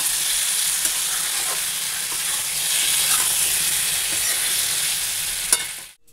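Curry cooking in a pan sizzles and fries with a loud, continuous hiss, close and unbroken for several seconds, with a faint clink near the end.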